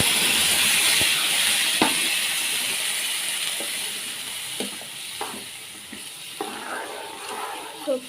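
Tomato puree simmering in a pan over a low flame for a tomato chutney, a steady close sizzle and hiss that slowly fades a little, broken by a few soft taps and stirring knocks.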